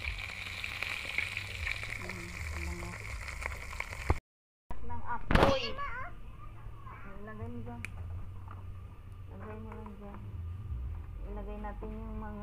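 Leafy vegetables and ingredients fry in a pan with a soft, continuous sizzle, a brief sharp clatter midway, and someone talking over it.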